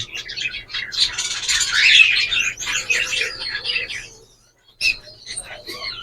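Pet birds at a nest box, a hen among them, chirp and chatter in a dense, busy burst of high calls close by, fading into a short quiet, then a few more brief chirps.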